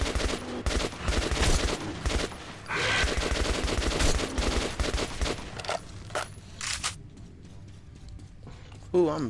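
Sustained automatic gunfire in a shooter video game, dense rattling volleys that come and go in bursts before tapering off, while a voice talks over part of it.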